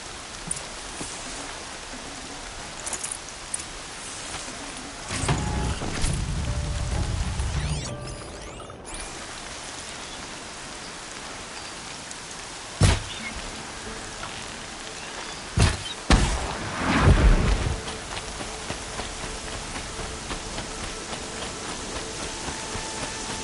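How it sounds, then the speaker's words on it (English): Rain falling in the video game Horizon Zero Dawn, a steady hiss of drops on surfaces with a few louder whooshes and thumps cutting through midway. "Raining like it's trying to wash everything away."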